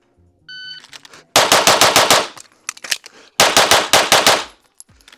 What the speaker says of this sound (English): We're gonna shoot it.